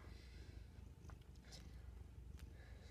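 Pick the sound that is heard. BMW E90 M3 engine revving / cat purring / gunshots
cat purring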